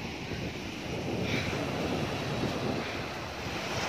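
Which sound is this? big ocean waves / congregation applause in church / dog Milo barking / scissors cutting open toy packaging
big ocean waves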